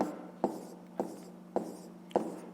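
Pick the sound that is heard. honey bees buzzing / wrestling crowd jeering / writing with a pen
writing with a pen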